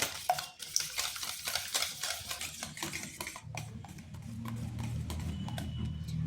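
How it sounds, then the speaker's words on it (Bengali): Sugar stirred in a bowl for jamai aduri pitha, a spoon scraping and clinking in quick irregular strokes, close and steady, with a low rumbling churn building in the second half. "প্রায় 5 থেকে 6 মিনিট এইভাবে ঘুরিয়ে নিতে হবে, চিনিটা যেন কোনো দানা দানা না থাকে।"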